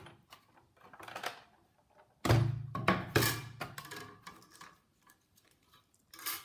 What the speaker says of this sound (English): I'm going to run it through the Big Shot,